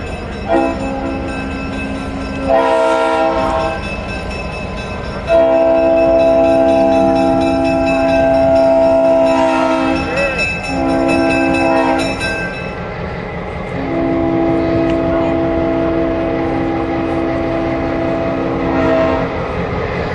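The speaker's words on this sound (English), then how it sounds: "A little bit of horn talk there by Ben for all you sound recorders." Diesel locomotive 1605 gives repeated horn blasts in a diesel days parade, with a series of long and short sustained chords played nearby over a steady engine rumble.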